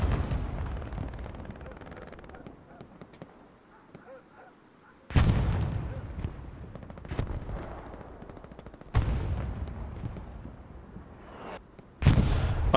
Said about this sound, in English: Artillery is hitting hard this spot.